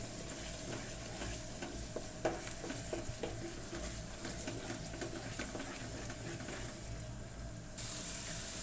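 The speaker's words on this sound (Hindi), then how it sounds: "अब इसको फ्राई करते हैं इसके साथ ही।" Crushed red chili frying in a masala for a meat korma, a low continuous sizzle and hiss with soft scraping stirs, moderately faint and steady throughout.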